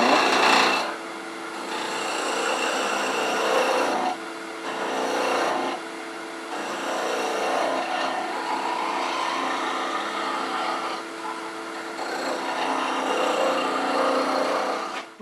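A wooden wand spins on a lathe while a cove is cut into it, giving a raspy scraping hiss in several long passes separated by short pauses, close and steady, with no talk.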